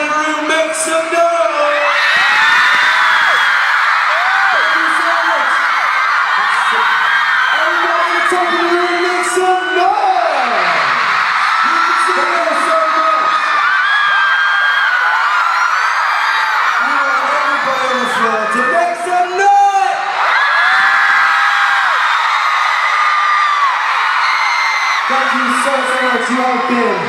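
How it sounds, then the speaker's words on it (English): A large concert crowd at an indoor arena in Mexico City cheers, whoops and screams in loud repeated surges, the roar swelling and dipping throughout with high shrieks rising above the mass of voices. "On the left-hand side of the room, make some noise!"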